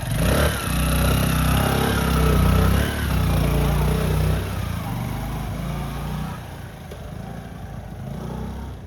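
A motorcycle engine runs loudly and steadily close by, its low rumble holding throughout before easing off slightly toward the end.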